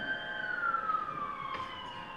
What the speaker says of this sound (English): Convenient sirens.